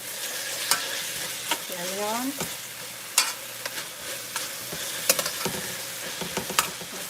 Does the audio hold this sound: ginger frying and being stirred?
yes